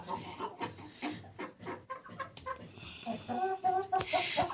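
Hens clucking in a backyard farm enclosure, several birds close by giving repeated short clucks and calls that build into a louder burst near the end, with no talk.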